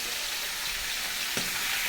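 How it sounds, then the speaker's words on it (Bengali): Pieces of bhetki fish fry in hot oil with a dense, loud, continuous hiss and crackle, plus a brief clunk near the end as the pieces are moved. "তাড়াতাড়ি ভাজছি"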